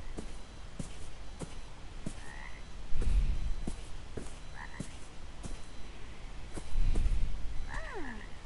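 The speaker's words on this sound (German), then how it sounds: "Das ist ein Frosch." Repeated frog croaks in the calm video game Beyond Eyes, rising and falling calls spaced a few seconds apart over soft ambient noise and regular light ticks.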